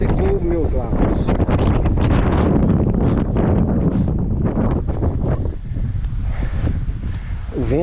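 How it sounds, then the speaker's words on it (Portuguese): Strong wind at Fortaleza Canyon in southern Brazil buffets the microphone in loud, roaring gusts, with muffled voices and faint sounds breaking through now and then. "O vento está muito forte."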